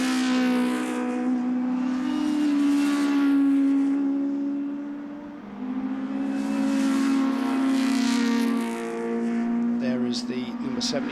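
Historic Formula Junior race cars, including a Lotus 20, race at Donington, their high-pitched engines swelling loudly as they approach and fading away in long passes, with no talk.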